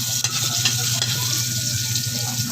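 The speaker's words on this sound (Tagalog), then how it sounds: "Adobo nga pala guys yung lutuin ko." Adobo cooks in a hot pan, a steady loud sizzle and frying hiss with scraping stirring strokes running throughout, close up and without talk.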